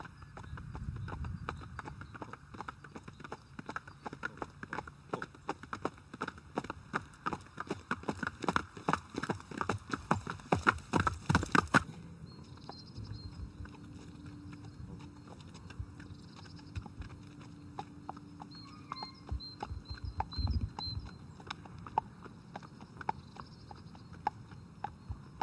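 Hooves of Friesian horses clip-clop in a rapid, dense run with a foal following, the beats loud and close at first, then thinning to sparser, quieter steps.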